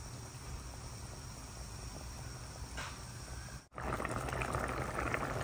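Chicken adobo simmers in a pan, a steady low bubbling hiss that runs throughout, briefly cut off by a short gap before resuming slightly brighter and busier.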